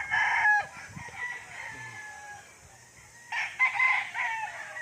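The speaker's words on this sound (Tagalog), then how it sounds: "So farm ng manukan talaga ito dito, no?" Roosters crow in long drawn-out calls, two distinct bursts separated by a pause, amid clucking chickens at a chicken farm in Tanay, Rizal, moderately close with faint background noise.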